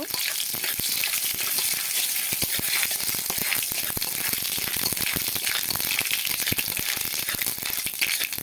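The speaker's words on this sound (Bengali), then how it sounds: "এবার দিয়ে দেব তেল এবার সরিষা দিয়ে দিলাম ভালো করে ভেজে নেব" Mustard seeds fry in hot oil with a dense, continuous crackle and fine popping, close and loud throughout, with occasional rattling stirs in the pan.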